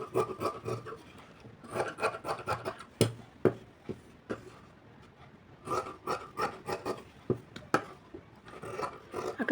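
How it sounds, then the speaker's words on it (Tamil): Scissors snipping through blouse fabric in repeated bursts of rasping, rubbing cuts, close and moderately loud, with short pauses between strokes and no talking. "சரி, இதுக்கு அப்படியே கட் பண்ணி எடுத்துக்கலாம்."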